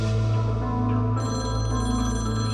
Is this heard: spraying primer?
no